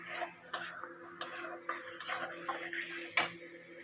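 Cauliflower and peas going into a frying pan in a home kitchen, with a run of soft clatters and stirring taps over a low sizzle.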